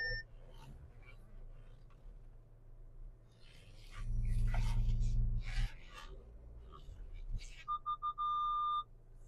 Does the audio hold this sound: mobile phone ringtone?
yes